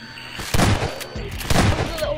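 Gunfire in Garry's Mod on the Hell's Prison map, two loud bursts of shots about a second apart over steady game background noise.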